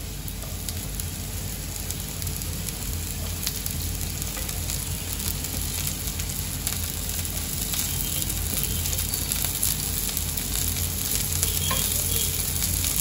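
Chillies frying in hot oil in a pan for Khandeshi kande pohe, a dense, steady sizzle with faint stirring scrapes throughout, close and unbroken, with no talking.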